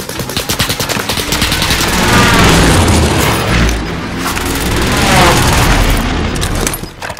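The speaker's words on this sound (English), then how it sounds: "Allied precision airstrike." Allied precision airstrike explosions boom heavily in Call of Duty Warzone on Rebirth Island, played on PS5, with deep rolling blasts layered over rapid gunfire bursts throughout.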